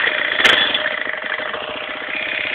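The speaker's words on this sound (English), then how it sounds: "let me throttle a little bit here." The engine of a Titan front-wheel-drive buggy bike with a CVT mod is blipped with the throttle, a close, steady mid-pitched engine drone that swells briefly early on, then settles to a rough, pulsing idle.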